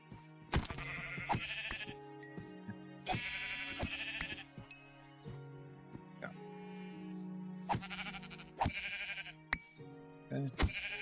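Sheep in Minecraft bleat in loud, repeated bursts of wavering cries, several calls spread over the span, with quieter pauses and faint game sounds between them.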